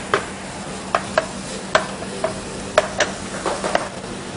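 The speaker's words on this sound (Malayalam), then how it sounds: "അരപ്പും ഈ സവാളയുടെ കൂടെ തന്നെ എണ്ണയിലിട്ട് നന്നായിട്ടൊന്ന് വഴറ്റിയെടുക്കുക." Ground spice paste and onions being sautéed in oil for a Goan fish curry, with a low steady sizzle broken by scattered scraping stirs of a spoon against the pan, heard up close with no voices.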